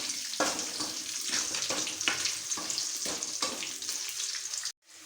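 Four green chilies sizzle and fry in hot oil in a pan while a chicken curry is being made, a steady close crackling hiss with brief stirring scrapes, cutting off abruptly near the end.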